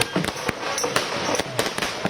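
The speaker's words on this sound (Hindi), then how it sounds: "पटाखे जो है वो छोड़े जा रहे हैं।" Firecrackers burst in a string of sharp, loud cracks at an election victory celebration outside a party headquarters in Delhi, the bangs coming at irregular intervals over a crowd's background hubbub.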